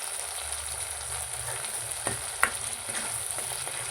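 Masala for Kolhapuri mundipaya roasts in oil in a pan, a steady close sizzle and fry hiss with a few light stirring scrapes and taps, no voices.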